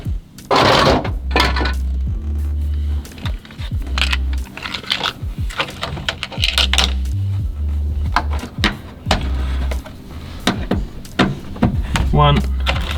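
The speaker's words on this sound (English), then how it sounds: "I'm going to pick up our screws." Metal screws picked up from a VW T3 dashboard area, with repeated small clicks, rattles and clinks spread through the clip, close by and fairly loud, broken by low thuds and handling noise.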